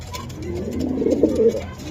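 Racing pigeons in a loft give a soft, close, throaty coo, a short rolling burst that swells and fades within a couple of seconds, with no voices over it.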